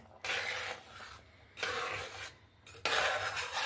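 Gobindobhog rice payesh stirred in a pot, a spoon scraping and sloshing through the thick pudding in three bursts separated by short quiet pauses.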